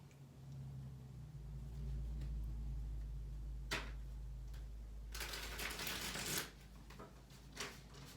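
Tarot cards being shuffled close by, with soft riffling bursts and a sharp flutter of cards over a low rumble, and no talking.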